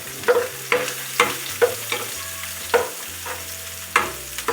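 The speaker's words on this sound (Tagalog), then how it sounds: "Magigisa muna tayo ng sibuyas. Tapos, isusunod natin yung bawang." Onion and garlic sautéing in a pan for a Filipino shrimp dish, a steady sizzle broken by repeated scraping stirs of a utensil, close and clear with no talking.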